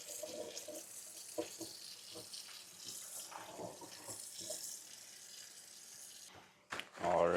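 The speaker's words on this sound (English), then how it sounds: "we're going to give it a very thorough rinse in the sink with some very cold water" Cold tap water runs steadily into a kitchen sink as a slab of cured pork belly bacon is rinsed under it, with splashing and handling sounds shifting as the meat moves, ending in a short clatter.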